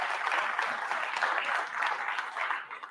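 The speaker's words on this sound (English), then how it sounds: "So big round of applause for GoPro." Crowd applause at a live kayak fishing awards show, a short burst of many hands clapping steadily before tapering off at the end.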